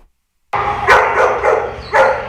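Dogs bark at an animal shelter during a canine parvovirus outbreak. After a brief silence come several loud, close barks at irregular intervals, ringing against a hard, echoing kennel room.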